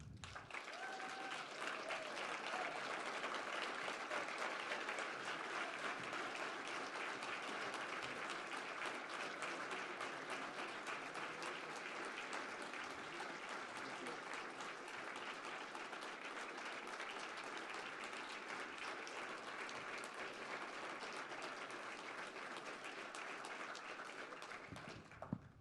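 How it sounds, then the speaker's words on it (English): Sustained audience applause at a 2016 university alumni awards ceremony, a dense steady clapping from a large crowd lasting throughout and fading slightly at the end. "How about a round of applause for all of our honorees tonight?"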